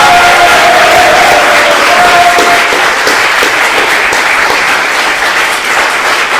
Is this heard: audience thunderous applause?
yes